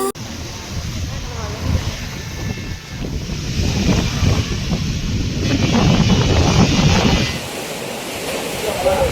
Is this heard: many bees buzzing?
no